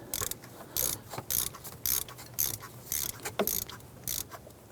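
A socket wrench ratchets as a spark plug is gently snugged down on a 2015-2020 Cadillac Escalade, a series of short, close clicking bursts in an uneven rhythm, fairly quiet with no talking.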